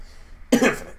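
A single short cough bursts out suddenly and loud after a stretch of near silence, a close, harsh throat sound from a podcast host.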